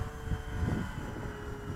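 FMS 1400mm Cessna 182 RC plane with a stock electric motor running at full throttle on a flying field, a loud, steady close-up whine and roar mixed with wind rumble, with no talking.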